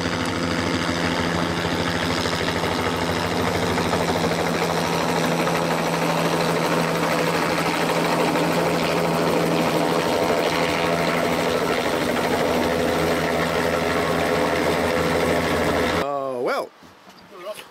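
A helicopter's steady, droning engine roar with rhythmic rotor vibration runs loud and unbroken during a flight into the bush, then cuts off abruptly near the end.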